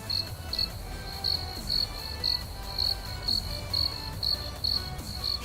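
Crickets chirp in a steady rhythm, about a dozen evenly spaced bright trilling bursts over a low background hum, fairly close and clear, with no speech.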